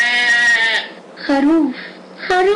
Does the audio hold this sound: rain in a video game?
no